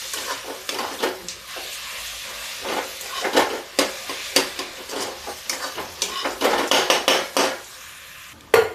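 Fried bottle gourd being stirred into a fasting-dish mixture in a pan over a low flame, repeated scraping and clinking of spoon against metal in uneven bursts over a gentle sizzle, close up, no talking.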